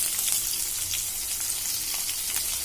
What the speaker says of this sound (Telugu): ఇంకా ఉల్లిపాయలు వేసుకుందాం